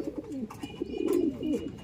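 Racing pigeons coo in a loft, a few birds giving repeated low throaty burbling calls close by, with faint background noise and no talk.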